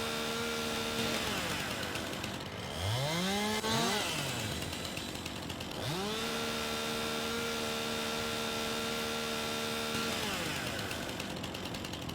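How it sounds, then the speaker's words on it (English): Farming Simulator 19 chainsaw idling with a steady hum, then revved up twice in rising and falling sweeps before settling back to a constant drone. Close and continuous, no one speaking. "Just like real life, chainsaws can get kind of annoying."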